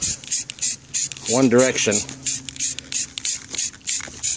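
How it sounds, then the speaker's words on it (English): A Rust-Oleum spray paint can sprays a wheel rim in quick, short bursts with brief pauses between them, close and crisp, while a voice speaks briefly partway through. "I'm just going to give it a little spray"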